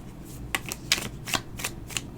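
Tarot cards being shuffled, a series of about five crisp riffling bursts in quick rhythm, close and fairly loud with little else around.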